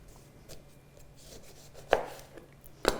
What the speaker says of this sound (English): have an adult or yourself can cut this lemon in half